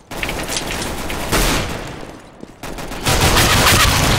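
Loud, dense video game gunfire, with a Tech 9 among the weapons, comes in rapid bursts, briefly eases, then resumes in heavy sustained volleys.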